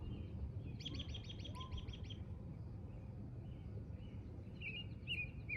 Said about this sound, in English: That bird's still going